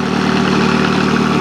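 A red Iseki TS 2800 tractor with a straight upright exhaust and iron cage wheels idles steadily in the countryside, its engine a loud, continuous, even rumble with a low pulsing throb and no speech over it.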